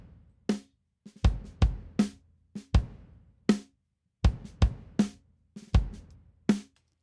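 A compressed snare drum, processed through SSL channel dynamics in a full drum mix, cracks out in punchy, sharp hits at an uneven groove, about fourteen strikes with short decaying tails, loud and close with no other sounds.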